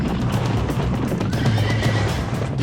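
Horses neighing and whinnying, a loud, sustained cry rising and falling over a steady background rumble, with no talk.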